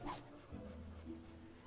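Dog in the video game Fable 2, digging at a buried spot, gives a short quiet bark or yip near the start, followed by soft low rustling and faint game ambience.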